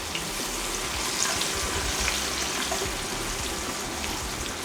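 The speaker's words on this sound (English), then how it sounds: "So you fry the RIRO and the onions together." Locust beans (iru) and onions frying together in a pan for efo riro, a steady close hiss and crackle of sizzling oil with no talk.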